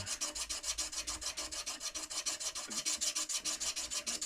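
Sandpaper pressed against a spinning wooden rollerball pen blank on a lathe, a steady rhythmic rasping hiss that pulses with each back-and-forth pass, close and continuous.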